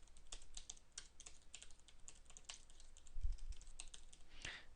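Typing on a wireless computer keyboard: a steady stream of light, irregular key clicks close to the microphone, with a few heavier taps, no voices.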